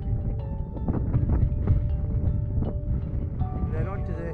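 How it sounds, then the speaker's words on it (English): Gusty wind on a mountain summit buffets the microphone in rough, close rumbles while someone talks over it. "It's a bit windy up here"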